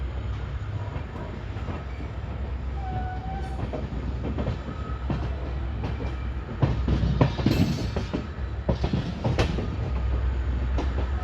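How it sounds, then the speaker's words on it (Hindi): Diesel-hauled Shri Ganganagar–Delhi intercity train pulling out of a station, a steady close rumble with sharp clickety-clack of rail cars growing busier and louder midway, alone without voices. "तो लो जी दोस्तों, 7:24 पर चल चुकी है ट्रेन अपनी मलोट रेलवे स्टेशन से।"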